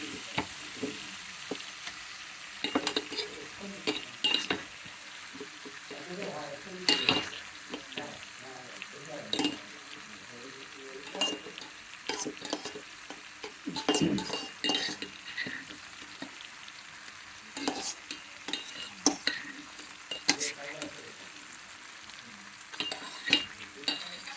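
Mashed tomato and eggplant being stirred in a pan with a spoon, a steady run of scraping, soft squelching strokes over a faint sizzle, with no talking.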